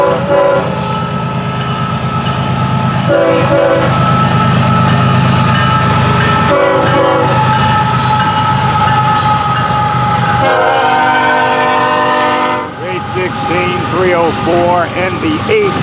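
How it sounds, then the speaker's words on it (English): A long FEC intermodal freight train with locomotive 816 leading rolls past close by, engine rumble and wheel clatter under loud, repeated horn blasts, with a voice talking over it. "I think he said the 816, the leader, 496 axles on this train."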